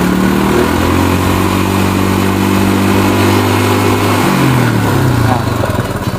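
A Yamaha Mio scooter engine is revved with the throttle, giving a loud, close drone that holds steady and then drops in pitch near the end as the revs fall away.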